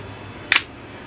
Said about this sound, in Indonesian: Dia akan membuka dan menutup apabila kita pijit tombol shutter yang di atas ini.